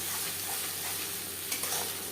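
Mustard and peanut paste fries in hot oil with cumin for a Bengali hilsa curry, a dense, steady close-up sizzle with faint stirring scrapes.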